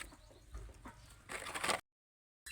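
German-line chicks and chickens on a farm, soft clucking and chirping calls over a low background hum, rising to a busier stretch of clucks before a sudden cut to silence.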